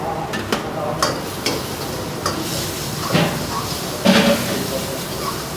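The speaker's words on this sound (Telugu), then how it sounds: "సో కొంచెం ఆయిల్లో ఫ్రై అయ్యే వరకు కూడా ఫ్రై చేస్తున్నారు" Chopped garlic and green chillies fry in oil with a continuous sizzle, broken by sharp clinks and scrapes of a utensil against the pan. A louder clatter comes near the end, and a voice talks intermittently over the cooking.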